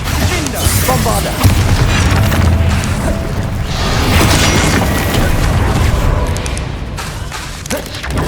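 Loud booming blasts from the Bombarda spell in Hogwarts Legacy fill the clip with continuous crashing explosions and combat noise at a steady high level.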